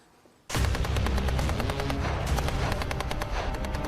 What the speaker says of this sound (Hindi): बखमूत के इस बाहरी मोर्चे पर लगातार फायरिंग चल रही है